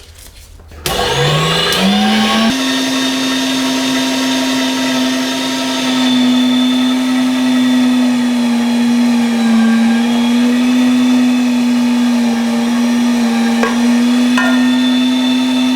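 A 500-watt electric meat grinder fitted with a coarse blade grinds meat, starting up after a brief click and then running as a steady, loud motor whine with a strained hum that wavers slightly throughout.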